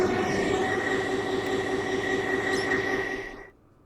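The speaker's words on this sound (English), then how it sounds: "The MTR train sounds weird at 160 kilometers an hour." A loud, steady rush of a video game MTR subway train at 160 km/h in underground tracks, with droning tones and rapid rhythmic clatter, cutting off abruptly near the end.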